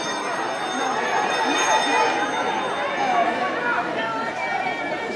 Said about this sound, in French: Ça va être la cloche donc au passage.